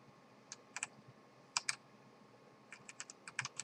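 Computer keyboard keys click in short scattered bursts of single and double presses as WASD movement controls are tapped, crisp and close against a quiet background.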